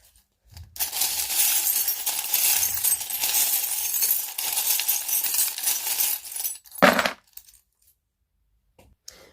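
Small metal charm dropping onto a tarot reading tray, a brief clinking impact near the end after several seconds of steady rustling and shuffling handled close by.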